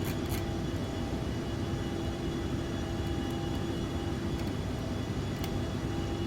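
A Loganair Embraer ERJ-145 regional jet on landing approach, its engines a steady, loud broadband roar with a constant hum and no break, heard from inside the cabin.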